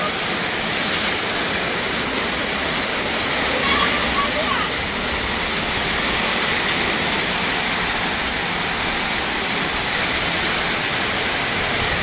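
Rising floodwater from a river rushes in a steady, loud broadband roar through the whole stretch, with voices faintly present beneath it.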